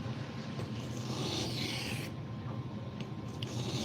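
A knife edge being sharpened, a continuous close rasping rub that swells and fades in long strokes, with no talking.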